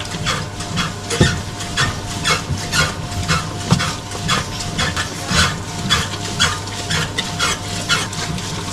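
A mechanical dough mixer kneads Neapolitan pizza dough steadily, with rhythmic slapping and thudding of dough against the bowl over a constant low motor hum.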